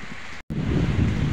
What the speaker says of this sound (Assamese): এনেকুৱা বৰষুণ দি আছে